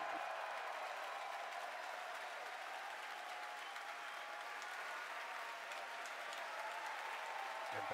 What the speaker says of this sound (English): Again, over the cheering